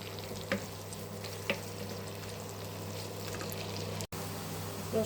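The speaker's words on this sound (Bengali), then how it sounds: "পেঁয়াজটা ভাজি করব, আর একটু তেল দিয়ে দেবো" Onions fry in oil with a steady, even sizzle that holds throughout, broken by a couple of faint ticks and one abrupt momentary dropout, close and moderately quiet with no talking.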